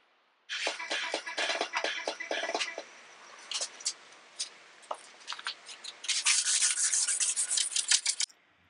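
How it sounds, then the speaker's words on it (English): Grit sandpaper rubbed over aluminum on a cornhole build, in a rough first pass toward a mirror finish: rapid, close scratchy strokes in bursts, with a busier, brighter run of sanding near the end. "I'm actually going to sand it out, working my way all the way up, then wet sand it and buff it"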